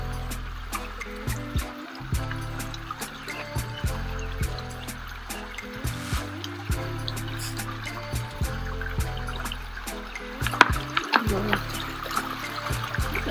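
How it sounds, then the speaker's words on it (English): Water from a small outdoor creek trickles and flows steadily in the background, with irregular low rumbles and knocks near the microphone throughout. "Here is a little creek."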